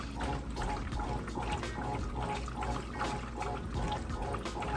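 A Whirlpool washing machine agitating clothes in water during its wash cycle, a close rhythmic sloshing and churning that swells and fades in regular strokes.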